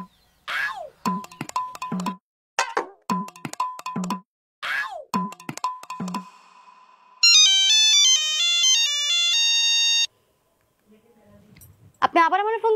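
A mobile phone makes an outgoing call and plays a bright, stepped electronic melody for a few seconds. Loud talking comes before and after it.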